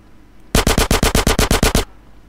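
Eleven evenly spaced, loud gunshots fire in a rapid, steady burst from a weapon in GTA San Andreas, then cut off abruptly into quiet.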